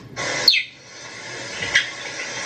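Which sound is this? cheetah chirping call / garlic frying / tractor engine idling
cheetah chirping call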